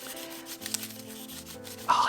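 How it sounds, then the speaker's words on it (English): Close, soft rubbing and scrubbing as dye is worked into wooden flowers, a steady brushing friction with a brief louder scrape near the end. "I'm literally just like scrubbing it in there."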